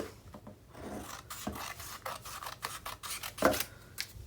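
Paper for a Halloween mini album being cut by hand, a dry rasping, scraping run of short strokes, close and fairly quiet.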